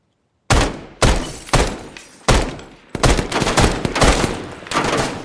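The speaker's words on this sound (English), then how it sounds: "we start taking big fire through" Gunfire tears through the thin aluminum walls of a building in the video game ARMA 3, with loud, close bursts of shots in rapid repeated volleys after a brief silence, including an M16A4.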